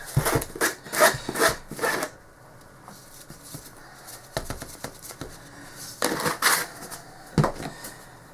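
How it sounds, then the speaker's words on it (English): Sand is stirred into texture paint in close-up bursts of gritty scraping and mixing, clustered strokes separated by quieter pauses. "So I'm going to add some more sand."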